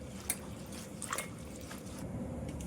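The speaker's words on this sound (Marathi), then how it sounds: "भरपूर असं पाणी घालून आपण चांगली अशी वर खाली करून व्यवस्थित खळखळून धुवायची आहे" Wild leafy greens are swished up and down by hand in plenty of water for washing, giving soft, quiet squishing and dripping splashes over a steady low background.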